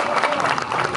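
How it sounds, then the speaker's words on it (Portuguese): Crowd applause from the audience at the 7 de Setembro civic parade in Caxias, Maranhão, a dense, steady wash of clapping over about a second with a faint murmur of voices mixed in. "Mais uma grande salva de palmas,"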